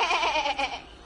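A goat bleats in a fairy tale radio play, a short wavering cry close and clear, with no other voices over it.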